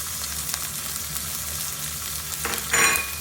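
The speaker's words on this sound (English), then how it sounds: "I very lightly seasoned the fish, the gurnard, and I'm going to just pop that into the pan." Gurnard fish frying in a pan with a little oil: a steady, close sizzle throughout, swelling into a louder, brighter crackle toward the end.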